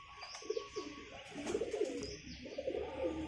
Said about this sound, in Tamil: இதுவும் வந்து ஒரு ஹை ஃப்ளையர் புறா.